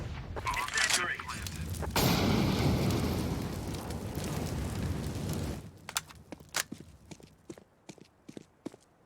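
A CS:GO incendiary grenade burns with a dense, roaring crackle for several seconds, then cuts out, leaving sharp scattered clicks and pops in the game.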